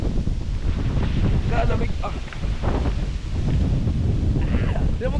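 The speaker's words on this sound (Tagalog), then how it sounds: "Alam mo ganyan kalakas yung hangin." Strong wind buffets the microphone in loud, continuous gusty rumbling, with a person speaking briefly over it.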